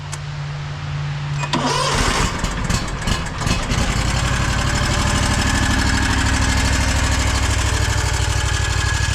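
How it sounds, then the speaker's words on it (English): Engine of a Wright Stander X 48-inch stand-on mower with about 1,200 hours starts up with a brief cranking clatter, then settles into a loud, steady, close idle that runs on to the end. "let's turn it on real quick"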